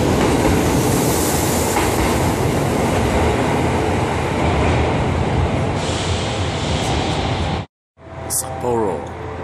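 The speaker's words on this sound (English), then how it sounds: "We have reached Sapporo train station now." A train rolls into Sapporo station in winter Hokkaido, a loud continuous rumble of wheels on track, cut by a sudden brief drop to silence before resuming with a short squeal.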